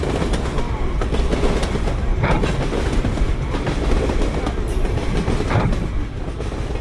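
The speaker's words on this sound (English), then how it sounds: "here's the train coming now" A train rolls past close by on a dark night, a loud continuous rumble with rhythmic clacking of wheels over rail joints and occasional metallic squeaks.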